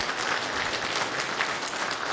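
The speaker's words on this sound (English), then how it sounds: "So round of applause for John." Steady crowd clapping fills a short stretch as a lightning-talk speaker named John is welcomed at a Go meetup, even and continuous from start to finish with no voices.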